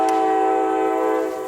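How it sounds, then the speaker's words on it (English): A train horn blaring nearby, one loud sustained chord held steadily throughout before fading slightly at the end. "Yeah, train, lay on the horn a little more."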